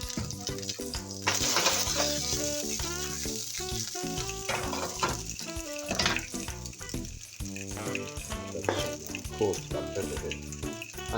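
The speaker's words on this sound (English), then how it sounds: "I'm going to just saute the beans with in some canola oil, some salt and pepper." Green beans sautéed in canola oil with salt and pepper, a busy sizzling fry with pan clatter and stirring scrapes running throughout, while soft music plays underneath.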